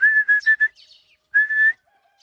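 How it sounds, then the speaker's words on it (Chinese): A person whistles to a young pet sparrow: three quick bright whistle bursts, a short pause, then one longer sustained whistle, close and clear with no talking. "还要我吹口哨是吧？"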